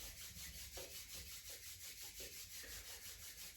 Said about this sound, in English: Take your hands, rub the palms together over the chest.